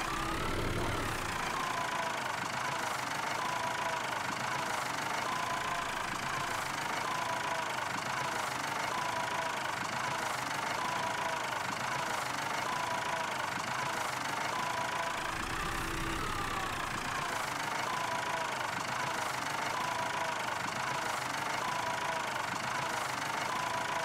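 Tractor engine in Farming Simulator 22 running steadily at idle with a constant low rumble and mechanical knock, continuing alone without a break throughout.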